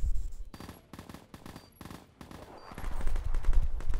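Automatic rifle bursts in a first-person shooter match, heard as several quick, punchy volleys separated by short gaps. A louder, denser run of shots follows near the end. The shots are close and prominent, and no talk is heard.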